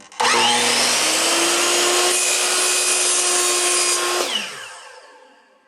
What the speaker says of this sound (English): Now I can turn on the saw, holding this carefully to the side.